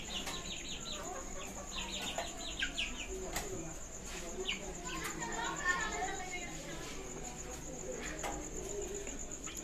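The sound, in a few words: chickens, hen and roosters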